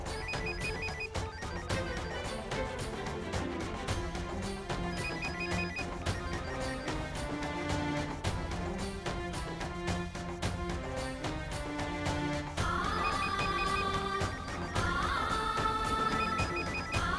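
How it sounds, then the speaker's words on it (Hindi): A telephone rings repeatedly and goes unanswered, a repeating electronic ringtone pattern over soft dramatic background music, steady and moderately loud with no talking. "अर्चना फोन क्यों नहीं उठा रही है?"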